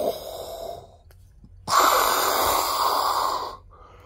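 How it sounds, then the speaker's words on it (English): Slow, drawn breathing from a Goju karate breathing exercise: a soft exhale, a brief pause, then a long, loud, airy breath lasting about two seconds, close and with no talk. "That's more breathing."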